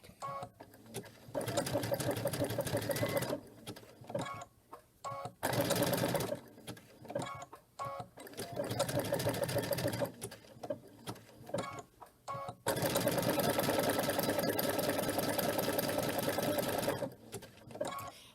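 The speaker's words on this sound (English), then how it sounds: "So let me stitch a little bit and then we'll see the difference on here." A sewing machine stitches fabric for appliqué quilting in long loud rhythmic runs, pausing briefly between bursts as the work is pivoted, close and steady.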